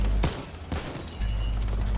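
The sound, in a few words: gunfire from both players shooting in a video game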